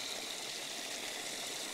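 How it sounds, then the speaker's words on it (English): Fresh spring water flowing out of a pool on a farm in Serta, Central Portugal, a steady close rushing hiss that stays even throughout with no voices. "that fresh water flows out of the pool on this side"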